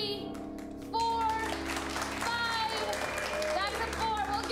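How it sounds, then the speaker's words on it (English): An improv comedy show audience claps to score a round, with a burst of applause that swells and holds for several seconds. A host's voice talks over the clapping. "so you're going to clap if it was a 1, 2, 3, 4, or 5"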